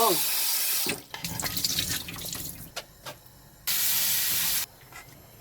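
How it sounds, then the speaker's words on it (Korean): Food for white-radish tteokbokki being rinsed at a kitchen sink: a loud rush of tap water runs at first, then stops amid clattering and handling noises, before a second strong burst of running water. "물에 살짝 씻어가지고"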